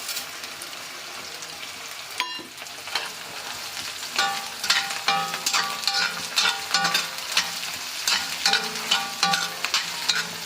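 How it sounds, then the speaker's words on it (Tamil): Tamarind, salt and curry leaves fry in an iron kadai for a South Indian podi chutney, giving a steady close sizzle with a run of sharp stirring scrapes and clicks from the middle onward. "புளியெல்லாம் நல்லா ஃப்ரை ஆகணும், அப்போ தான் நல்லா டேஸ்ட்டாக இருக்கும்."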